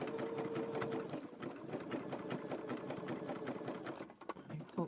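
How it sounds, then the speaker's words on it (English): A sewing machine stitching fabric-wrapped rope into a bowl runs in fast, steady rhythmic bursts, close and fairly quiet, with a brief pause near the end. "So I'm going to sew it together."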